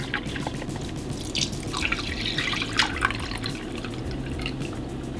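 About a cup of apple cider vinegar pours into a pickled onion and jalapeno relish mix, a close, continuous liquid trickle with small splashes and no talk.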